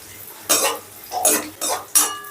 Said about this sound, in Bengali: কাজুটা একটু নাড়াচাড়া করেই আমি দিয়ে দিচ্ছি কিশমিশ।